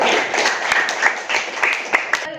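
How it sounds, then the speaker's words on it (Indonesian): Pupils in a school classroom give a short round of applause, with a few scattered, uneven claps and mixed voices murmuring underneath. "tepuk tangan untuk Sakirul."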